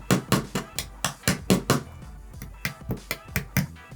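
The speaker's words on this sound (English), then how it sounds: "Use some scissors to knock it through like a hammer." Scissors are used like a hammer to knock a needle through a playing card, a rapid series of sharp, close taps in uneven rhythm, about a dozen strikes with no talk over them.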